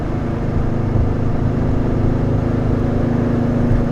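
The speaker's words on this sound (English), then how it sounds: "Best sounding 4-cylinder out there, I think." A four-cylinder car engine runs steadily just after a cold start, giving a close, even drone with a slight low throb throughout and no voices.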